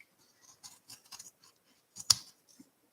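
Paper punch trimmed with scissors at a mixed media art journaling table, a few soft quiet snips closing in one crisp louder cut, close and isolated with no voices.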